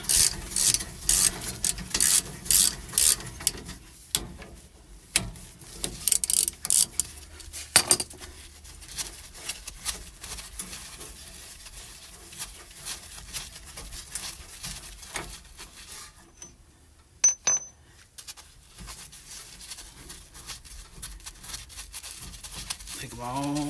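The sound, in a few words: wrench loosening 17 mm rear brake bolts on Toyota Tundra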